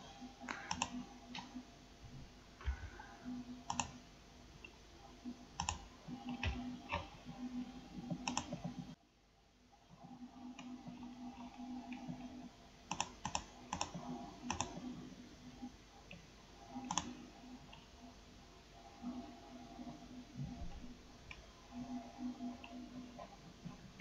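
Keys clicking on a computer keyboard as a promo code is entered into an online shopping cart, with quiet, irregular taps and short bursts spread over a long stretch, including one brief pause.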